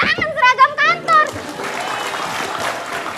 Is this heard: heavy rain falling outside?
no